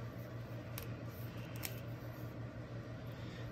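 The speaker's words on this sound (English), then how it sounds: "I'm just trying to cut the tape that's holding it together." Packing tape on a mail package is cut with a few quick, close snips against a steady low hum.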